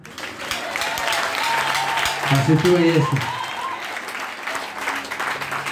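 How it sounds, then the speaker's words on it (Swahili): A church congregation applauds with steady, moderately loud clapping while a voice speaks over it and someone sings briefly in the middle. "Haya, mwambie mtako tupige makofi."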